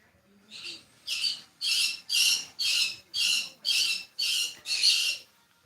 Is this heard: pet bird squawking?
yes